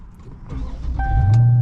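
In a Widebody Dodge Challenger Scat Pack, an electric motor hums as the power seat and steering wheel adjust to a stored position. The whir runs steadily and close over the car's low background rumble.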